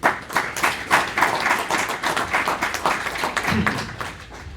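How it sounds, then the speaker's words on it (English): A small conference panel audience claps, with individual hand claps distinct in an uneven rhythm, moderately loud and steady throughout. "A warm applause for Alban."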